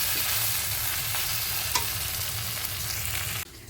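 Prawn stuffing for stuffed pointed gourd (potol dorma) cooks in ghee in a pan, giving a continuous close sizzle with faint stirring that cuts off abruptly near the end.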